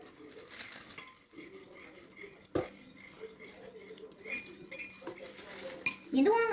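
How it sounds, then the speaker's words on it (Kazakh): Melted soap base mixed with clove powder is stirred in a glass bowl, the spoon giving soft, scattered clinks and scrapes against the glass, with quiet talk nearby. "Енді араластырамыз"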